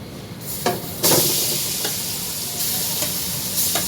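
Greens for a bhorta fry in a little mustard oil, with a bright continuous sizzle and occasional knocks and scrapes of a spoon stirring the pan.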